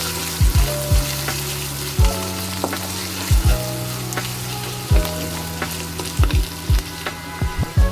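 Spice masala sizzling in a pan for a koi fish curry, close crackling fry broken by repeated scraping strokes of a spatula stirring at an uneven rhythm.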